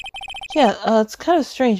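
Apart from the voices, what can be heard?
phone ringtone in Phoenix Wright: Ace Attorney video game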